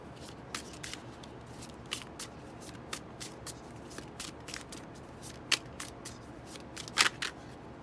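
Tarot cards being shuffled by hand, soft riffling and sharp clicking snaps recurring irregularly, close and fairly quiet, with no talk.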